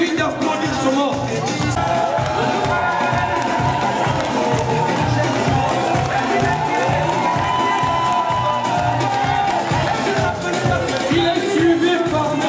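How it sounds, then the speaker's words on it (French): Loud crowd at an indoor community gathering cheering and shouting to welcome a president, a constant roar of voices and whoops with some clapping buried underneath, people calling out throughout. "je voudrais qu'on accueille le président sous un pluie d'applaudissements"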